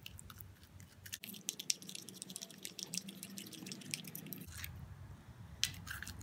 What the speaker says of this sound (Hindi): अब मैं इन सब चीज़ों को मिक्स करूंगी।